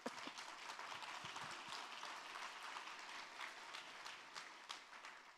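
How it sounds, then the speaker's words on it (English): An audience at a talk on women and world peace breaks into applause, a fairly distant, moderately quiet wash of clapping with a few sharper individual claps standing out along the way. "On that note, you will clap."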